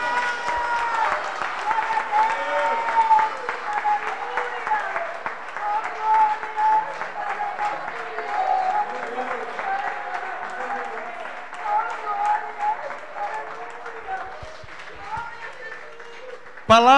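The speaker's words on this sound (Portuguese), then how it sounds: "Reconheça a Deus com sua salva de palmas bem forte." A church congregation gives a long, strong round of applause, with steady, dense clapping that lasts throughout while a voice speaks over it.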